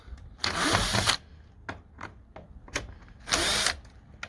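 Power screwdriver on the bolts of an air filter cover on a Piaggio Medley 125 scooter, with two sustained whirring bursts broken by short clicks and taps, close up and without talk.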